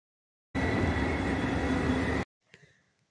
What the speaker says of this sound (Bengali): basil two লুসেন train journey